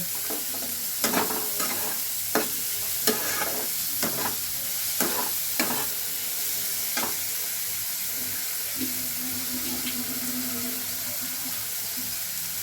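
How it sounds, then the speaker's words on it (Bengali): Semolina pasta being stirred and mixed in a pan, with repeated scraping strokes over a steady background sizzle, a brief water-like hiss running through the later part. "এবার সবগুলোকে ভালো করে মিশিয়ে নেব।"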